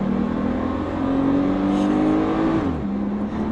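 A Porsche 911 Turbo S with all-wheel drive accelerates hard, its engine note climbing steadily in pitch for a few seconds before dropping briefly at a gear change and pulling again, loud and close.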